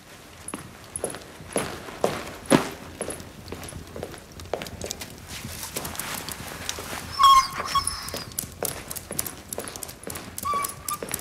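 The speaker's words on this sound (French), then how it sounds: "Je ne veux pas de ce chien." A dog in an indoor period-drama setting, its whimpers and the patter of its paws heard along with hoof-like clopping footsteps, scattered sharp sounds at a medium distance with no talking.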